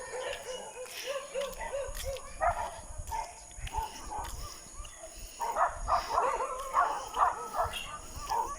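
Several dogs bark and yip at a distance, in irregular bursts that grow busier toward the end, with a person talking over them.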